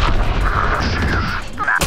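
A loud, sustained grenade blast in Valorant rumbles through the whole moment, heavy and booming, ending with a sharp crack.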